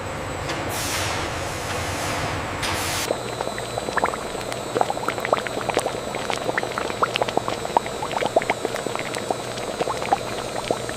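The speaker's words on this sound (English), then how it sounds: "The mixture deepens in color, reducing to a rich, concentrated blueberry syrup." A blueberry mixture boils down into syrup in a factory, giving a continuous bubbling hiss with frequent small pops and bursts; there are a couple of louder rushing surges near the start.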